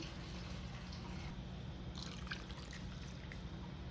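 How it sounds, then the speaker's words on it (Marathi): Water pours steadily into a pot of vegetables for drumstick soup, a continuous splashing trickle with no voices, heard close and fairly quiet throughout. "असं दोन ते तीन कप पाणी ओतते मी"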